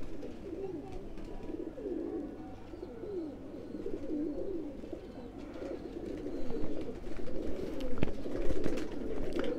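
Several pigeons from breeding pairs for sale, Dubwala, Kasuri and golden types, coo steadily and close together in overlapping soft rumbling calls with no voices.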